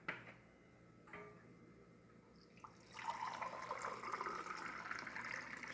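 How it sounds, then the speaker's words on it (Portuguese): Water pours from a clay water filter into a glass: a few faint clicks and taps in a quiet room, then a steady splashing stream starts partway through and runs to the end. "É água do filtro de barro."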